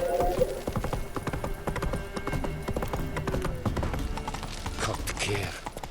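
Horse Roach galloping in The Witcher 3, rapid close hoofbeats in a steady rhythm with a brief whinny, under a little talk.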